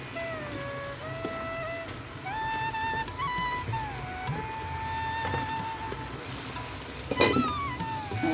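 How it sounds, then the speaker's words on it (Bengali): Fish, along with a fish head, fries in a pan at home while iftar and sehri dishes are being cooked, giving a soft continuous sizzle under steady tonal background music, with a brief clatter near the end. "এটার মধ্যে এখন মাছ ভাজি করবো।"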